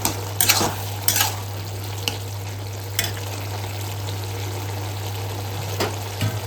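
Boiled potato and pumpkin being mashed in a pan over high heat, a few sharp scraping knocks of the utensil against a low steady hum and soft bubbling.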